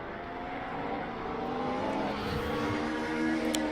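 Vintage touring race cars lap the Nordschleife in a racing video game, a loud continuous engine drone with shifting pitch that holds steady throughout, with no talk.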